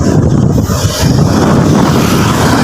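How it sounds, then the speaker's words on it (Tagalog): Strong wind at the Pililla windmills roars and buffets against the microphone, a loud continuous rumbling gust with no talking. "Sobrang lakas ng hangin dito"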